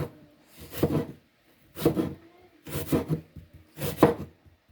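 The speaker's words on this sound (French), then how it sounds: "les oignons que je suis en train de découper" A knife chops onions on a board for a fresh salad in four separate bursts of rapid chopping, each about a second apart with short pauses between, fairly quiet and close.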